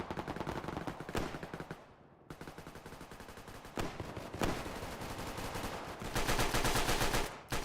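SMG fire in a video game, dense rapid automatic bursts sounding loud and close, broken by a few brief gaps and heavier single cracks.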